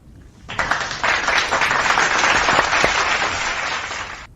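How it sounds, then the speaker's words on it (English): A burst of applause from a crowd starts abruptly, holds steady and loud for several seconds, then cuts off. "Let's give him a big shout out applause."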